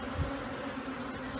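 A swarm of honey bees being hived by an urban beekeeper hums in a dense, steady drone, close and continuous with no speech.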